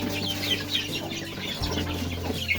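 Hen and her chicks cluck and peep steadily on a farm in the Philippines, with high chick chirps layered over low hen clucks and a constant background hum.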